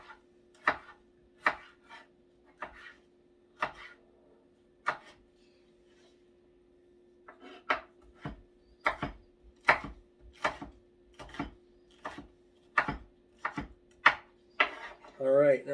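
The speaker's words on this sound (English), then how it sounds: "now our peppers are all nice and chopped up" A knife chops through peppers on a cutting board in irregular bursts of sharp, near thuds, pausing briefly before a faster run of regular strokes toward the end.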